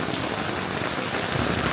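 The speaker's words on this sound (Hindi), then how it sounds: "इस बारिश में तो नहीं जाया जा सकता है बिना छाते के" Heavy monsoon rain in Manali, a dense, steady hiss of drops drumming on surfaces, loud and close throughout, with no voices.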